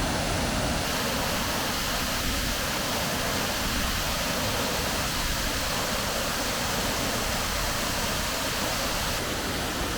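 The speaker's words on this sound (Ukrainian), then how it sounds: "Бухтівецький водоспад, основний." Rushing water of the Bukhtivets waterfall in the Bystrytsia valley, a steady dense roar that fills the whole clip at close range with no break or variation.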